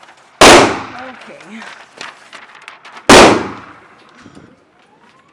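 Two sharp, loud gunshots a few seconds apart at an indoor gun range, each a sudden blast with a short decaying ring, with brief chatter and movement between them.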